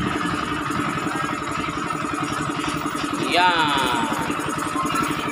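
A Bajaj NS160 FI motorcycle with a fuel injector fault runs at idle after the injector is replaced, its steady, rapid pulsing thrum close by, with a voice speaking briefly over it.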